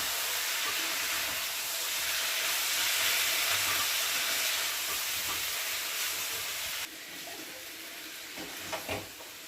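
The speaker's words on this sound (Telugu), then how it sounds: "ఇప్పుడు ఇందులో సన్నగా కట్ చేసి పెట్టుకున్న టమాటో ముక్కలు వేసుకున్నాను." Chopped tomatoes sizzle in a pan with bitter gourd that has already fried for five minutes, a steady hiss that is loud at first and drops to a softer crackle partway through, with a few light stirring clicks near the end.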